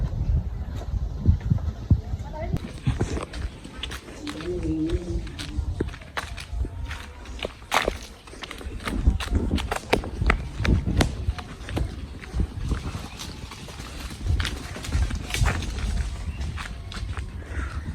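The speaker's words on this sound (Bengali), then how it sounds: "ছাগলগুলো ছেড়ে দিছে আর কি আজকে। ওরা হচ্ছে দৌড়াদৌড়ি করতেছে।" Goats let loose outdoors run about, their hooves pattering in quick irregular bursts close by, with people talking over the scampering throughout.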